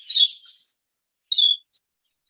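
A young grey cockatiel cock, about six months old, chirps in an aviary: two short bursts of bright, high tweets with a brief pause between, close and clear.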